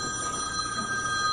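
A telephone rings during a council budget hearing, a steady electronic bell tone running through the whole moment at moderate level over faint room noise.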